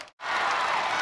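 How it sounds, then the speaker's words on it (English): Roaring applause and cheering swell from a basketball arena crowd at Assembly Hall during an Iowa at Indiana women's game, a brief dip then a dense, loud wash of clapping. "Here comes the crowd as Assembly Hall is into it now."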